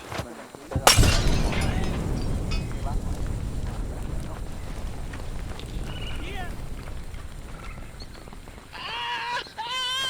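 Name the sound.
Molotov bottles shattering into fireballs in a video game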